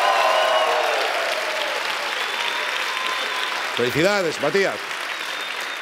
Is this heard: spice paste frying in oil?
no